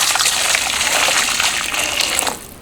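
Water, 960 g of it, gushing steadily into a container for a lost-PLA casting experiment, a continuous hissing pour that thins out just before the end, with no voices.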